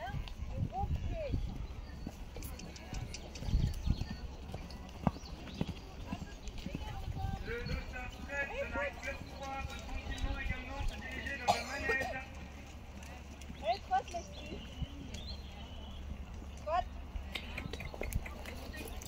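Hooves of a pony clip-clopping at a trot during a cross-country eventing (CCE) competition, a steady rhythmic beat close by with people talking over it and some background noise.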